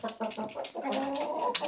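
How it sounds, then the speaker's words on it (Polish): Hens in a backyard flock of ornamental chickens cluck in short repeated bursts, fairly close and clear, with one sharper call near the end and no talk over them. "dzisiaj chciałem pokazać wam moje kury"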